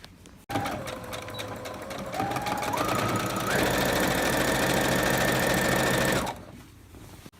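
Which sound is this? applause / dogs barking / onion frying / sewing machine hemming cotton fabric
sewing machine hemming cotton fabric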